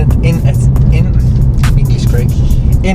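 A 2022 Renault Clio with a small 74 kW engine drones steadily while driving, a loud, rowdy low hum and road rumble filling the whole stretch, with someone talking over it.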